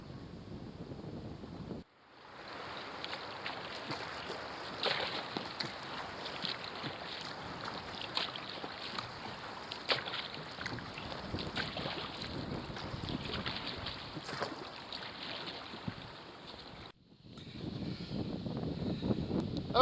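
A vintage Folbot Sporty folding kayak is paddled downwind, giving a steady wash of water and wind noise with rhythmic splashes. Brief gaps in the sound come near the start and near the end.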